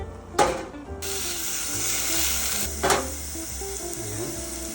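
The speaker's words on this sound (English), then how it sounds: "Sweating the ramps in olive oil." Ramps sweating in olive oil in a pan, a steady close-up sizzle and hiss, with a couple of brief stirring clatters.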